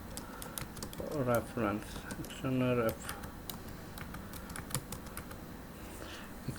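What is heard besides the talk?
typing on a computer keyboard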